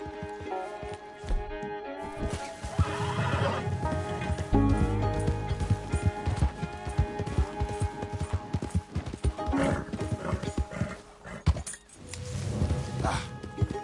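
Horse hooves clopping over a busy game soundtrack, with a brief whinny and scattered clinks, heard under speech and music throughout.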